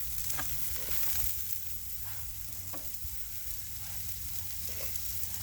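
Mushrooms sizzling in oil on a Blackstone flat-top griddle set to low heat, giving a steady, continuous frying hiss with soft scraping throughout.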